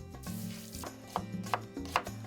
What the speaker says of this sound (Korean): 칼질하는 솜씨가 딱 봐도 보통이 아닌데요